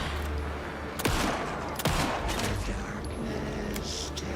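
Gunshots in Alan Wake 2: two sharp, loud cracks about a second apart, followed by fainter scattered shots over a steady background rumble.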